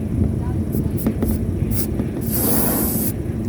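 Spray paint hisses in short bursts and then one longer sustained spray, close by, over masking tape during a Starlink install on a van. A person talks over it.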